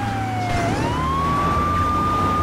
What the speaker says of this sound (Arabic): كاني سمعت صوت شرطة